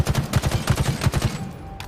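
Loud, rapid gunfire rattles off in quick bursts in a shooter video game played on Legendary difficulty, then cuts off abruptly into near silence.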